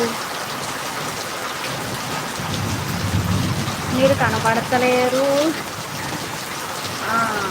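Heavy rain pours steadily with a dense hiss, joined by rolling thunder and someone speaking briefly during a live stream.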